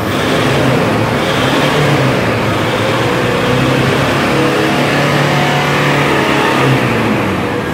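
A Toyota Hilux Flex 2.7 engine revs hard and continuously, a loud, close, sustained roar that swells and holds with no talk over it.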